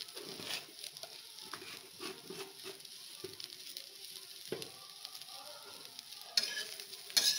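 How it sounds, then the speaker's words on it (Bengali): A spoon scrapes and stirs cauliflower samosa filling in a hot pan, with a soft sizzle underneath and intermittent scraping strokes, close and fairly quiet. "এবার একটু নেড়ে জল ঢেলে দেওয়া হবে"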